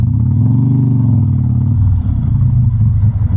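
A 2004 Harley-Davidson Sportster 1200 Custom rumbles while riding, a loud, deep, close engine drone with a steady throbbing pulse that eases slightly toward the end.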